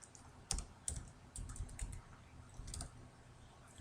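Fingers tap out a phone number on a computer keyboard, a short run of light, close keystrokes in small clusters with no talk.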